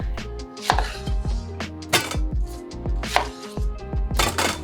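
A knife cutting onions on a board, trimming off the ends and slicing down the middle, with a few distinct sharp chops spread out over a tonal musical background; no speech.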